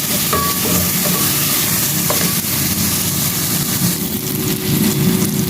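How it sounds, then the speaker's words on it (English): Basil sautéing in a hot pan in a home kitchen makes a loud, close, continuous sizzle with the rustle and scrape of stirring throughout. No one speaks. "I'll let this saute for a while"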